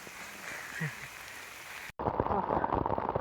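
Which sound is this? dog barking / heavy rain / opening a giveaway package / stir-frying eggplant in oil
heavy rain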